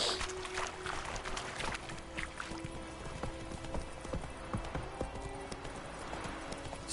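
Roach, Geralt's horse in The Witcher 3, gallops with a steady, rapid clip-clop of hooves, loud and close, carrying on without pause under game ambience with no talking.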